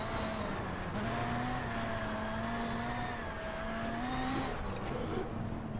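A VW Beetle rallycross car in iRacing at Lucas Oil, its engine droning steadily close up as it slides through gravel and then rises in pitch while accelerating back up to speed.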